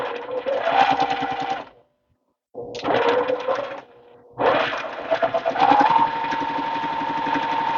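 A Juki TL18QVP sewing machine stitches a baby quilt in two long close runs of fast, steady whirring, separated by a brief pause and a short burst of stitching.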